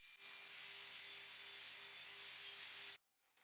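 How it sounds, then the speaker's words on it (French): Steady hand sanding of old veneer on a desk, a continuous close rasping hiss held evenly for about three seconds before it stops abruptly. "j'ai donc dû patienter et poncer jusqu'à ce que ça parte"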